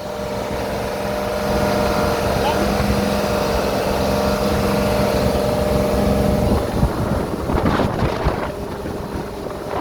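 A fishing boat's engine runs loud and steady on fresh oil and new maintenance, with wind buffeting the microphone throughout and a burst of knocks and handling noise near the end.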